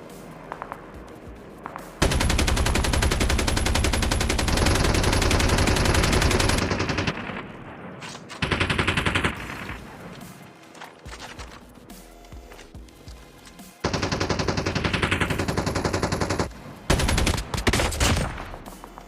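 Gunfire in the mobile shooter game Call of Duty Mobile, loud sustained rapid automatic bursts lasting several seconds, broken by quieter stretches and further dense volleys, with no talking.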